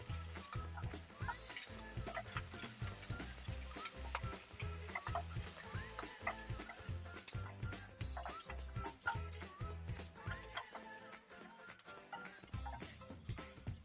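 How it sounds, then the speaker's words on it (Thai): Crispy mussel pancake frying in a pan, a continuous dense sizzle with a repeated rhythmic scraping and stirring of a spatula against the metal, close and fairly loud. "แล้วทอดต่อนะครับ ให้เขาสุกเหลืองกรอบยิ่งขึ้นไปนะครับ"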